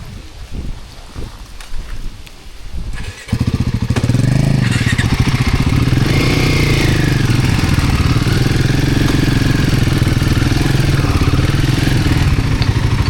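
Royal Enfield Himalayan motorcycle engine on an off-road motocamping ride, loud and close, starting after a few seconds of quieter background and then droning steadily with a throbbing low rumble.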